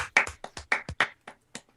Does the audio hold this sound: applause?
yes